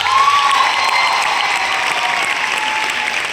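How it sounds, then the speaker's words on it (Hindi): Dense, continuous applause fills a hall at a motivational coaching seminar, a loud even wash of many hands clapping with a faint whistle near the start. "ताली होना चाहिए दोस्त"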